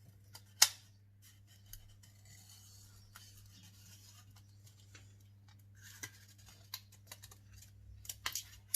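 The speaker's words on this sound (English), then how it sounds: "take a sharp pair of scissors and cut your butterfly wing out." Scissors snip through thin aluminium sheet in sparse, crisp cuts with clicks, one sharp loud snip early, then quieter irregular cuts over a low hum.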